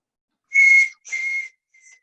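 A person whistles three short, high notes, the last one faint, imitating the alarm whistle wild dogs give on encountering a tiger.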